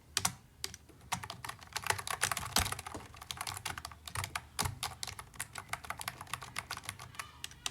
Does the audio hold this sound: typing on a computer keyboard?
yes